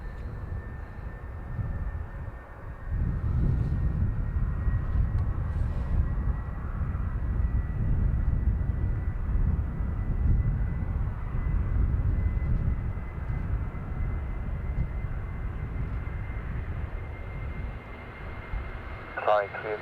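A Qatar Airways Boeing 777 airliner taxies at Dublin Airport, its distant engines giving a steady low rumble that rises after a few seconds and holds for the rest of the clip.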